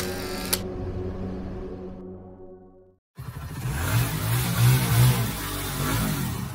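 A single sharp camera shutter click sounds up close while a souvenir photo is taken at Dunmore Head on the Dingle peninsula in Ireland. A steady tone fades away, then loud windy rushing noise takes over.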